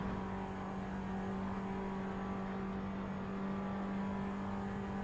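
Race car engine in the Assetto Corsa driving game, a steady loud droning whine with a strong constant tone, held at high revs for the whole stretch with no talk over it.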